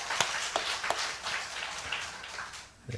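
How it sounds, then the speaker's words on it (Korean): A church congregation claps after a Sunday service Bible quiz, with scattered, uneven hand claps at moderate distance that thin out toward the end. "우리 하나님께 영광의 박수 올려드리겠습니다"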